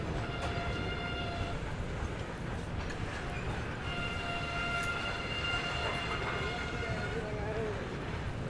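A train crosses the famous Q-shaped track and bridge near Ratlam Junction, its wheels rumbling and squealing steadily at a moderate distance, with faint background noise throughout.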